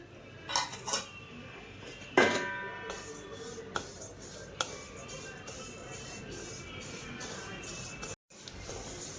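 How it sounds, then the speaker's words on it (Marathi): Urad dal dry-roasting in a pan: a spoon scrapes and clinks against the metal in several sharp bursts, then settles into a softer, steady rustle of grains being stirred. "आता आपल्याला उडीद डाळ भाजून घ्यायची आहे"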